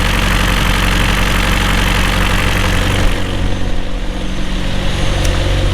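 A McLaren 720S twin-turbo V8 idles on its original exhaust after an engine replacement, a loud, steady, close-up drone with a strong low hum that dips briefly partway through, with no talking.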